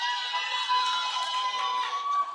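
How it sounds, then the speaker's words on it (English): Audience at a school career day applauding and cheering, a dense sustained wash of clapping and shouting voices with steady loudness throughout. "I haven't had an applause like that for a very long time."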